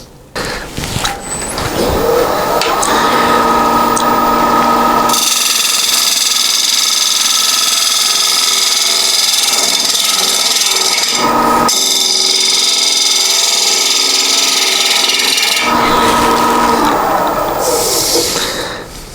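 A wooden beechwood yarn bowl spinning on a lathe while a 3/8 inch bowl gouge with a 45-45 grind cuts it, a loud steady motor whine with a rough scraping tone that drops out briefly and resumes, no speech.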